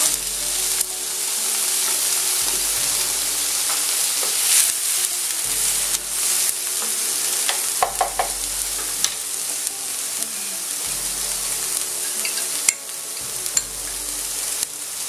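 Cherry tomatoes sizzling and frying in a pan for fettuccine with smoked salmon and capers, a steady close hiss with occasional stirring scrapes and clatters, no talk.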